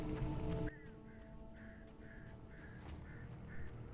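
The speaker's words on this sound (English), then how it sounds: "Damn birds." Harsh bird calls from an attacking flock in Alan Wake, a sudden loud burst dropping into a quieter stretch with a series of evenly spaced squawks repeating about every half second, moderately faint.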